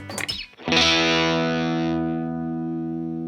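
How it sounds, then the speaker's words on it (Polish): A Vintage V100MWR electric guitar on its bridge pickup with light overdrive plays a brief picked phrase. A loud strummed chord follows and rings out steadily with harmonic sustain, with no talking over it. "Załóżmy, że na tej mostkowej ustawimy jakiś lekki przester."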